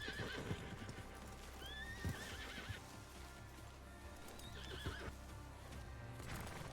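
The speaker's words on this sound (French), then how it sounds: "Envoyez vos chevaux ailleurs." Horses in a video game whinny twice in high, wavering calls while hooves clip-clop irregularly on the ground, fairly faint with no talk.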